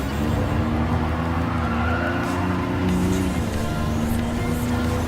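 A Daihatsu Copen RJ VGT racing in Gran Turismo Sport at Tsukuba Circuit, its engine droning steadily with a rising and falling pitch as it shifts, loud and close, with faint tire noise throughout.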